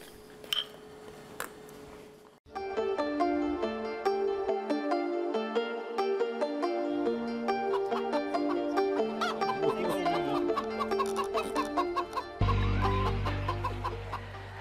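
Hens on an experimental agricultural research farm clucking and cackling close by, several birds overlapping in a busy, continuous stream of calls that runs throughout.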